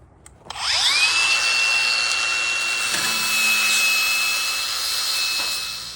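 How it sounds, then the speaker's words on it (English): An angle grinder spins up and runs continuously while cutting excess material off a homemade truck bed tonneau cover: a loud, close, sustained high whine with a rough grinding hiss that holds steady for several seconds, then eases off at the end. "I'm just gonna take the grinder to this."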